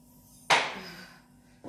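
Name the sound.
pouring a glass of milk into pancake batter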